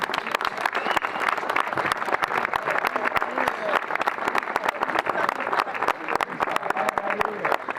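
A crowd at an outdoor regional gathering in the Marina Alta breaks into loud, sustained applause with sharp individual claps, while voices carry faintly underneath.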